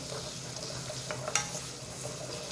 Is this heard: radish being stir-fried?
yes